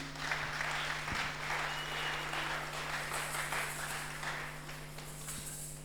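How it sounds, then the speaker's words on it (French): A church congregation applauds at a Sunday service, a continuous dense wash of clapping from many people that holds steady throughout with no break. "Acclamons pour Jésus"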